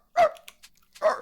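A person's voice imitates a dog barking: two short, loud, bark-like yelps about a second apart, with faint small sounds in between.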